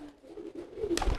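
A male pigeon courting a female gives a low, throaty coo that rises and falls briefly, followed by a short flutter or rustle close by.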